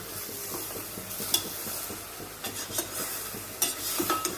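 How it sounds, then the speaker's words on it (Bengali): Mutton being stirred and fried in a pan, home-style, with a steady sizzle under repeated scraping strokes and occasional sharper utensil knocks against the pan, close and fairly loud, no talking. "মাংসগুলো খুব ভালো করে কষাই।"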